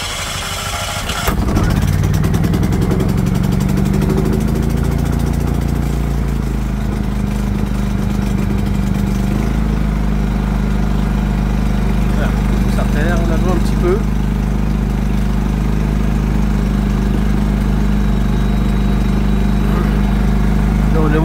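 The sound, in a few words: Modeco generator engine starting and running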